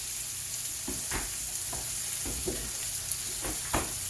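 Splash of liquid hitting a hot pan while cooking steak and potatoes, giving a steady sizzling hiss with several scraping stir strokes at irregular intervals, close and clear.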